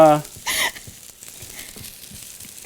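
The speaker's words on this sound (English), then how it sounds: "get those oiled up, and they'll start to cook a little bit" Green beans sauté in oil in a pan over medium heat, giving a soft, steady sizzle with a brief louder crackle, while a voice speaks briefly at the start and end.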